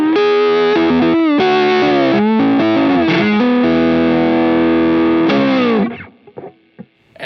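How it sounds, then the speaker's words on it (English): Overdriven slide guitar played on the neck pickup through a Line 6 Helix: loud sustained notes gliding up and down in pitch, with a few pauses between phrases before the last note cuts off into brief fading noise. "add in some more overdrive for the slide tone."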